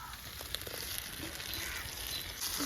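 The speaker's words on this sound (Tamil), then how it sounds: "இது நல்லா பச்சை வாசனை போகிற அளவுக்கு சுருளாக வதங்கிட்டேன்" Ground ripe tomato paste sautéing in a pan for a prawn and snake gourd curry, giving a steady soft sizzle with a few faint scraping stirs and no talking.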